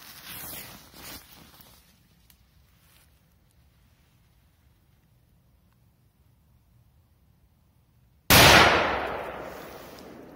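After some faint crackling and a long quiet stretch, a Smoke Scream P2002 firecracker goes off with a single sharp, loud bang that rings briefly.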